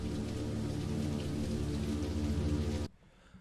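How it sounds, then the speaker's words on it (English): Steady rain sound effect from the Jam View screensaver: a dense, even hiss of falling rain, loud and constant, cutting off abruptly near the end and leaving quiet background. "Oh yeah, there's also rain. And sound."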